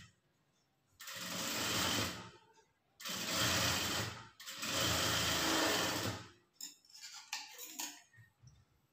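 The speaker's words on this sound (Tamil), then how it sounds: "டபுள் ஸ்டிச் வந்து போட்டுக்கோங்க." Sewing machine running a double stitch on a blouse, three sustained whirring bursts of stitching separated by short pauses, followed by lighter clicks and handling noises at the end.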